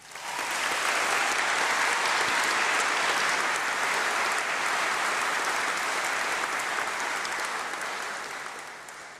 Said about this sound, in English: So please, can we give them a round of applause?